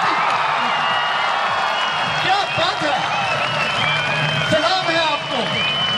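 Loud audience clapping and cheering at a police commando performance in Kashmir, sustained across the stretch with whoops rising from the crowd while someone speaks over the applause.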